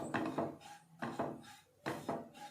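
Grated coconut, about two cups, dry-roasted in a pan while a spoon scrapes and stirs it, giving three clusters of rough woody scraping strokes at a steady pace, close and fairly soft.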